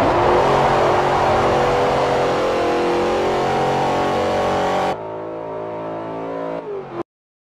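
A 2009 Jaguar XKR S engine roars loud and sustained at high revs while lapping the Motegi oval in Forza Motorsport 4, then drops to a lower steady drone with a slight dip before cutting to silence.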